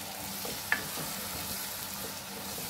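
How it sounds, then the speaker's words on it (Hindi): Tomato puree for rajma sizzles in a pan over a medium flame, a steady close frying hiss with one brief sharp tap near the start and faint stirring scrapes, and no voice. "अब हम डालेंगे इसमें टमाटर की प्यूरी।"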